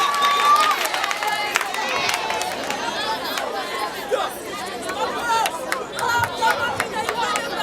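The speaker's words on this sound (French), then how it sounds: "il faut acclamer tous nos enfants" Audience at a school ceremony in a noisy, close crowd, with lively chatter and children shouting and cheering throughout.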